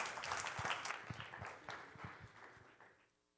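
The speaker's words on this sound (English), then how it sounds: "Again, a big applause for Matt." Audience applause closing a talk at a conference stage, a scattered round of claps that fades and dies out toward the end, with no talk over it.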